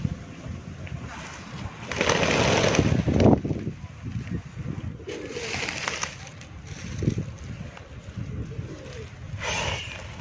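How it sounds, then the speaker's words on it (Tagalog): Pet pigeons coo and flutter in a flock kept at home before feeding, soft repeated cooing mixed with bursts of rustling wings and scuffling at moderate distance. "magpapakain naman tayo sa ating mga alagang kalapate"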